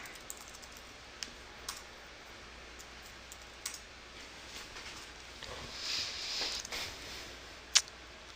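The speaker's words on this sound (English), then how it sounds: "Fine, I'll type the whole thing." Quiet, sparse keystrokes on a computer keyboard: a few isolated clicks and short bursts of typing at close range over a faint steady background hum.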